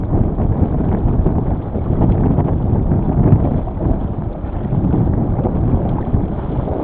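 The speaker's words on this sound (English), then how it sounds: "So the boat's moving really well, some fast sailing." A steady, dense rush of water and wind as a Potter 15 sailboat sails fast through building waves, continuous and loud throughout with no voices.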